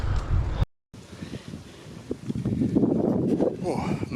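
Breezy wind buffets the microphone on a hilltop climb during a ride near Mynydd Bach and Tregaron, a steady rushing roar broken by a brief dropout, with faint talk mixed in.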